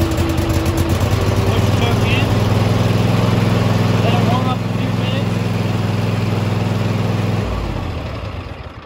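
A Husqvarna Z254 zero-turn riding mower with a 54-inch deck runs loud and close with a steady mid-pitched engine drone that changes tone midway and then cuts off near the end.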